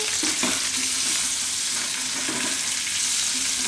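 Potatoes for dum aloo frying in oil over low gas, a steady close sizzle running throughout with a few soft stirring scrapes and no voices.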